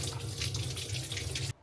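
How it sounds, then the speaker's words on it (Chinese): Water from a kitchen tap runs steadily while a ripe, soft peach is washed under it, a close, even splashing flow that stops abruptly at the end. "然后我要把这个桃洗一洗"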